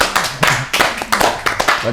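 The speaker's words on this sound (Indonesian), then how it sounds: "Wow, tepuk tangan ya." A small group claps hands in a quick, uneven burst of sharp slaps, close and loud, mixed with excited talk and exclamations.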